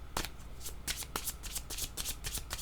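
Playing cards being shuffled or drawn during a card reading, a quick series of crisp riffling flicks and snaps, close and fairly quiet, with no talking.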